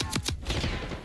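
Rapid gunfire in Call of Duty Black Ops 6, a few sharp close bursts in quick succession followed by rumbling battle noise.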